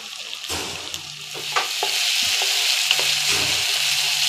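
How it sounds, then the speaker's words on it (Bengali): Spices, garlic paste and ginger paste frying in a pan for Bengali duck curry make a loud, close sizzle, while a spatula scrapes and knocks through it every second or so, with no voices. "এখন এখানের মধ্যে একটু একটু করে মশলা অ্যাড করতেছি"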